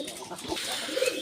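Pigeons coo in a short, soft, low burble, heard faint and close over a quiet background.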